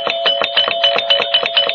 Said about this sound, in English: I think I detect her gentle touch on the doorbell.